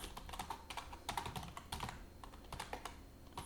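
Quick irregular clicks of a computer keyboard as code is typed, close and fairly quiet, with no voices.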